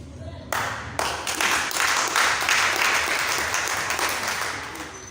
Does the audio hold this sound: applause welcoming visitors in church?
yes